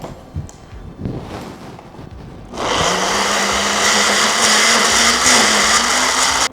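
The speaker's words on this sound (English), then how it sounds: "Sometimes I blend it 2 times because sometimes it's too full." A Ninja blender whirs loudly, blending a chili mixture with oil. It starts abruptly after a quiet stretch and runs steady and close, with a rising motor tone, until the end.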